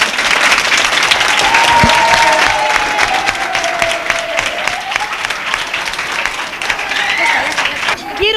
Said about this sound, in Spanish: vamos a dar a la señorita Rosa un aplauso muy fuerte